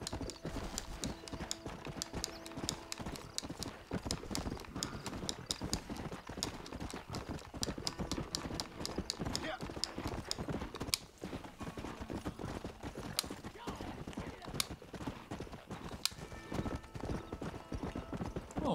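Horse hooves trot in the Red Dead Redemption video game, a steady, continuous clip-clop rhythm at close range that runs the whole way through over a busy game soundscape.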